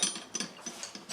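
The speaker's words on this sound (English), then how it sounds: "I'm going to loosen the rest of these intake bolts" A hand ratchet clicks rapidly and close-up while loosening intake bolts on a 2006 Subaru Outback engine, a short run of quiet, evenly spaced mechanical ticks.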